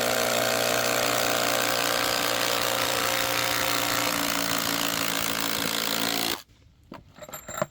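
An impact driver drives a screw into a ledger board with no pilot hole, a loud continuous whirring hammer for about six seconds, then it stops and a few faint clicks and knocks follow.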